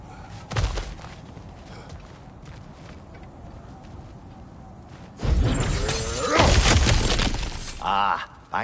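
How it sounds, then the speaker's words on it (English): Cracked ground being smashed through in God of War Ragnarok: a sharp crunch early on, then after a stretch of quiet, a loud prolonged burst of shattering and crumbling rock, with voices speaking in the background. "Ah, back to smashing through things for fun and profit."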